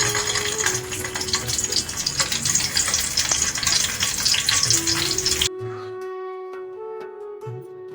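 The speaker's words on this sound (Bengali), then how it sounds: "এখানে আমাদের সর্ষের তেলটা গরম হয়ে গেছে। এরপরে এই ডিম দুটি আমি ভেজে নেব।" Two eggs frying in hot mustard oil, a loud, dense crackling sizzle for about five seconds that drops abruptly to a softer, steady bubbling hiss, with no talk.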